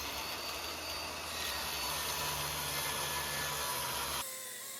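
A saw cuts a wooden front frame piece for a workbench, guided along a straight edge set by a combination square and block; a steady, loud, continuous whine runs unbroken for about four seconds, then stops abruptly.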